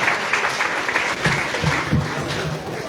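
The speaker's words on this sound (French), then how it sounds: "Accueillons-les avec des applaudissements." Audience applause at a gathering, a short burst of steady clapping from a crowd at moderate distance.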